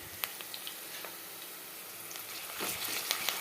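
Onions frying in a pan for a drumstick tomato masala curry, a soft steady sizzle with scattered crackles and a louder burst of stirring near the end.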